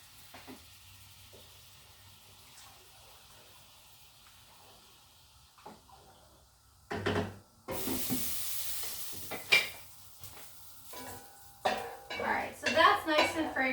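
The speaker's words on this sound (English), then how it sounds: "Go ahead and give my pasta a stir." Pasta being stirred in a pot for a baked mostaccioli dish, quiet at first, then louder scraping, clinking and sizzling bursts in the second half.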